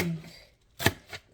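A knife slices through soft food on a board, giving two crisp, separate cuts close by after a brief lull.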